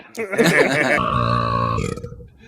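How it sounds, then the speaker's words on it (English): A very long, loud burp from a professional burper in the film Elf, one continuous croaking belch lasting a couple of seconds, close and dominant. "he lets out this like very long burp"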